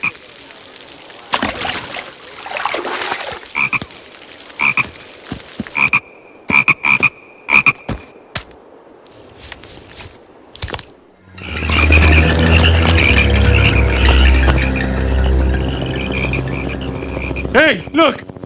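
Frogs croak in a loud, dense chorus of repeated calls that swells into a steady din near the end, following earlier scattered clinks, thumps and a brief voice, in a cartoon scene of frogs overrunning crop fields.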